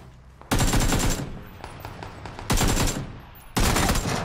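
Bursts of rapid automatic gunfire in a first-person shooter game, three loud sustained volleys separated by brief gaps, close and dominant with no talk.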